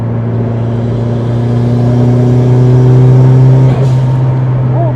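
A Mitsubishi Lancer Evolution 7 engine drones steadily and builds in pitch as it accelerates hard with the air conditioning on, a loud sustained hum from inside the car, easing off near the end.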